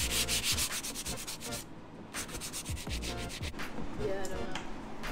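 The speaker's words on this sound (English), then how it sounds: "The guy at the auction suggested using a palm sander with 220." A palm sander fitted with 220 grit paper rubs across a mid-century modern Heywood Wakefield Wishbone wooden dining table. The scratchy hiss is close and steady, broken by short pauses, with no talking.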